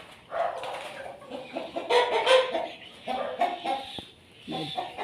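Several free-range country chickens on a village farm cluck and squawk close by in irregular bursts, with brief pauses between calls and no clear speech.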